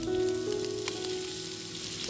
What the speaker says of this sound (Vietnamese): Phi thơm toàn bộ số hành tím băm.